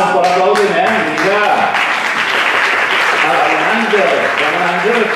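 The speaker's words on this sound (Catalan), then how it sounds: "un fort aplaudiment, vinga!" Theatre group members at an anniversary gathering clap loudly and continuously while voices talk and call out over the applause.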